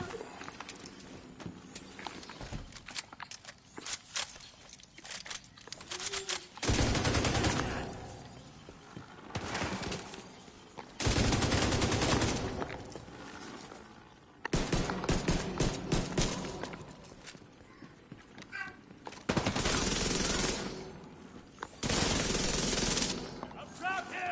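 In The Division 2, automatic gunfire rattles out in repeated long bursts, loud and close, with quieter stretches of scattered shots and movement between them.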